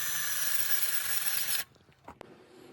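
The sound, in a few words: power drill drilling hole through metal bracket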